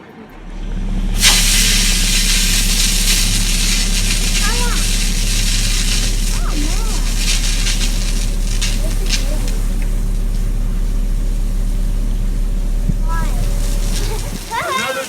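Truck 10 sprays a strong, steady hiss of water over the new Engine 13 in a fire engine washdown ceremony, a loud continuous rushing spray with a low engine drone beneath and scattered voices calling out.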